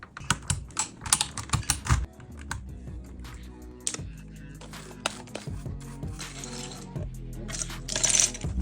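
Typing on a mechanical keyboard fitted with soft-feel keycaps: a quick burst of close, crisp key clacks, then slower, softer scattered presses and a final flurry of rapid keystrokes.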